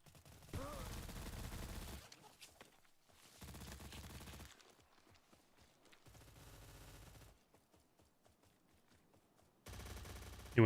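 SA-58 rifle gunfire in a video game: several sustained bursts of rapid automatic fire separated by quieter gaps, with a sharp loud shot at the very end.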